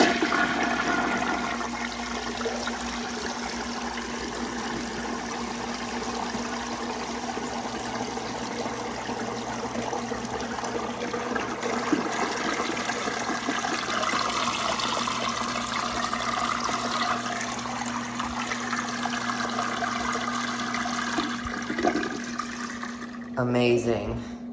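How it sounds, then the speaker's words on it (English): A 1937 Standard compact toilet flushes with a steady, close rush of water that runs continuously for over twenty seconds, with a faint low hum beneath and a brief clunk near the end. "I'll give you guys one more flush."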